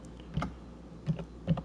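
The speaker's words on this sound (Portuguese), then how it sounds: "Vou digitar aqui" A few soft, separate keystrokes tap on a computer keyboard, quiet and close, three or so clicks spaced out over a low room hum with no talking.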